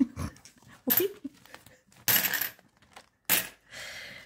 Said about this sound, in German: So, jetzt kannst du das Kleingeld mal wegtun.